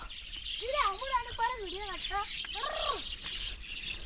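Small birds perched on wires chirp and twitter in quick, repeated rising and falling calls, fairly close and steady, over a faint hiss of background noise.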